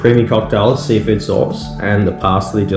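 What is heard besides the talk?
None of the usual background noises is heard.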